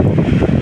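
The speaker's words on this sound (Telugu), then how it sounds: "ఇలా చక్కగా గాలి వస్తూ చక్కగా ఉందండి." Steady wind rushes and buffets the microphone on a rainy day, a loud, continuous gusting roar with no voices.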